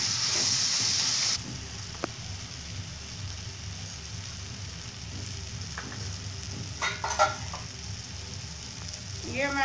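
Tomatoes and onions cooking down in a pan for a matar paneer gravy give a steady close sizzle, loudest at the start, with occasional spoon scrapes and light clinks later on.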